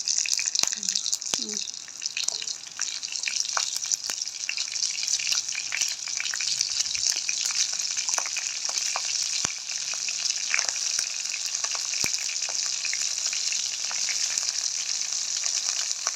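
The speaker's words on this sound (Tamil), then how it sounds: "கடுகும் பெருஞ்சீரகமும் போட்டாச்சுது வெட்டி வைக்க பச்சை மிளகாயை போடுவோம்" Chopped green chillies fry with mustard and fennel seeds in oil for a fish curry, a steady, close sizzle with crackling pops running throughout, and a voice occasionally heard underneath.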